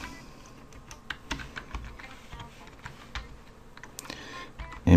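A computer keyboard clatters under quick, uneven keystrokes, close and fairly distinct, with short bursts of clicks and a louder thump at the very end.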